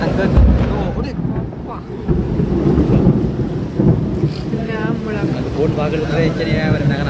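Low thunder rumbles through a heavy downpour in Jaffna, swelling and fading beneath steady rain, with some muffled voices and movement nearby.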